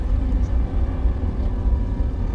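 A car drives fast in a radio drama, heard as a continuous low engine rumble and road drone at steady loudness with no voices.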